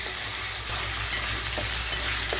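Chicken pieces frying in a pan over a high flame for a spinach chicken curry, giving a steady, loud, close sizzle with a few faint stirring knocks and no talk.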